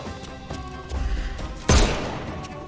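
Gunfire in a shooting video game, a few separate thumping shots followed by one loud sharp blast near the end, close and punchy with no talk.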